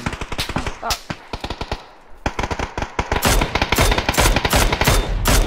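Automatic gunfire in the video game Battlegrounds, rapid bursts of sharp shots with a brief lull, then denser, louder sustained firing toward the end.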